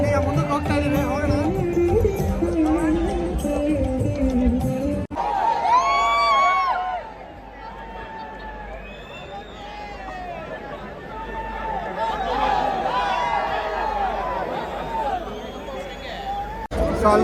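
A large, noisy wedding crowd for Daali Dhananjaya's marriage, with steady hubbub, overlapping chatter and occasional cheers and whoops filling the space, close and loud throughout.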